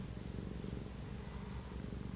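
A cat purrs steadily and close up, a low rhythmic rumble running unbroken throughout with no talking.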